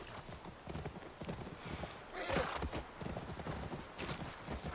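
Steady clopping of horse hooves at a trot in the video game The Last of Us Part 1, with a brief whinny in the middle, over a rustling outdoor background.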